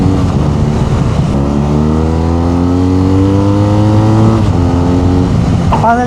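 A BMW R nineT Urban GS boxer engine rising in a smooth rev, its pitch climbing steadily for several seconds before dropping off, loud and close in traffic.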